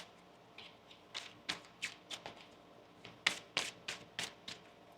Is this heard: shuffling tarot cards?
yes